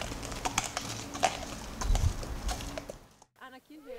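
A horse's hooves clop lightly on a hard surface outdoors in the cold, irregular and fairly close, before a person speaks briefly at the end.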